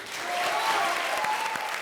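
A studio audience on a comedy show breaks into steady, moderately loud clapping that keeps an even level for the whole stretch with no voices over it.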